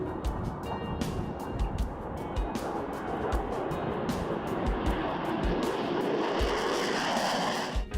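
Fighter jets roar on an airfield flight line, a loud continuous engine rumble and hiss with repeated sharp transient bursts throughout.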